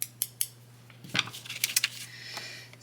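Scissors snip white lace for press-on nails at close range, with a few sharp metallic clicks followed by a flurry of quick snipping and light rustling.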